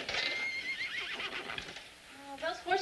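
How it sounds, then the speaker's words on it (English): Several horses neigh and whinny at night in a stable, with clip-clop hints and voices nearby, the calls rising loud near the end. "Those horses are so noisy tonight."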